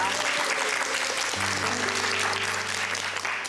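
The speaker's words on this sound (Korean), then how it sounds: "오늘 좋은 강연 들려주신 우리 조승현 작가님께 다시 한번 박수 부탁드리겠습니다" Audience at a lecture hall applauds an author after his talk on language, sustained dense clapping throughout with a faint low tone of music joining partway through.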